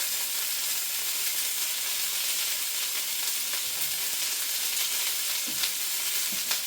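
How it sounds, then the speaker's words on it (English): Bacon and sausages fry in a pan with a dense, even sizzle and hiss that carries on unbroken throughout, a couple of faint clicks near the end, no voices. "I'm just going to turn the bacon."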